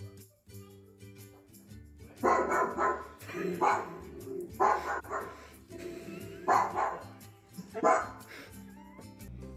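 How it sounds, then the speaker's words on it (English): A dog barks in several separate bursts spaced a second or two apart, with whimpering and yips between, fairly close and loud. "what does a dog sound like?"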